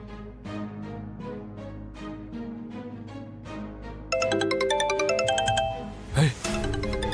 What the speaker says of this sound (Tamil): நான் சொல்ல ஜான்சி மட்டும் தான் கால் பண்றாங்க